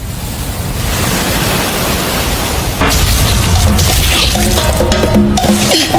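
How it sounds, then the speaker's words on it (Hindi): Ocean waves crash on a shore in a Jujutsu Kaisen anime scene, a loud continuous roar of surf that swells into a heavier surge midway, with no talk. "समुद्री सैलाब का किनारा।"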